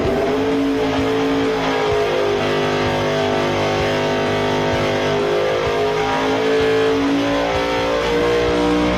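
A Dodge R5 P7 race engine revs at high RPM with a loud, close, harmonic-rich roar whose pitch climbs and falls in sweeping surges, continuous for about nine seconds.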